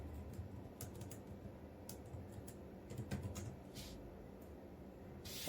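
Faint, close clicking of keys on a computer keyboard while entering text in PowerPoint, an irregular patter of quick taps with short pauses.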